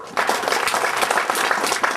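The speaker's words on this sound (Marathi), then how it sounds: "टाळ्या वाजवा." An audience at a spiritual discourse gathering claps hands together, a dense steady patter of many hands lasting about two seconds at even loudness.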